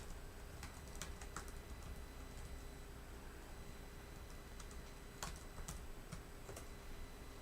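Typing on a computer keyboard, sparse clusters of light key clicks in short bursts with pauses between, fairly faint against a steady low hum, no talking.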